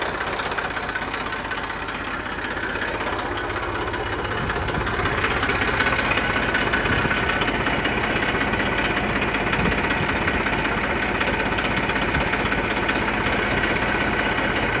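An Eicher 333 tractor engine idling, a steady low diesel chug with a fine knocking rhythm and vibration, close and continuous throughout, becoming slightly louder and rougher partway through, with no voices.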